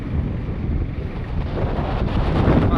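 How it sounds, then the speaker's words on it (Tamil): Wind blows at night near Pamban bridge, a steady broadband rush buffeting the microphone and swelling slightly louder toward the end, with no voices. "காற்று"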